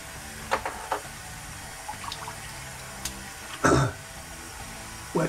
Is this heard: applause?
no